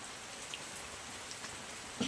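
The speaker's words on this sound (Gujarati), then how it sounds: "આવી રીતે વરસાદ ચાલુ છે" Steady rain falling, a soft continuous hiss with a few faint drips and taps, no voices.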